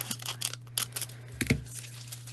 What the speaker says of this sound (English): I am going to cut some off